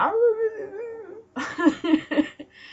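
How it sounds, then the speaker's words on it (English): Dogs howl in a long wavering note, then break into a quick series of yips and barks, close and fairly loud. "Not my problem, friggin' neighbor dogs."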